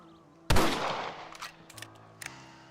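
A single loud rifle shot in the Red Dead Redemption game, cracking sharply and then trailing off into a decaying echo, followed by a few fainter thuds and clicks.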